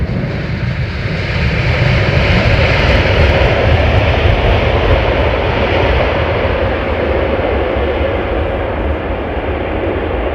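Boeing 787 Dreamliner jet airliner passing near London Heathrow Airport, a loud, steady broadband engine roar that swells early and holds throughout without any voices.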